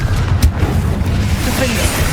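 Explosive burst from the Confringo fire spell in Hogwarts Legacy, a short boom near the start over a dense, rumbling low-end game soundscape that continues throughout.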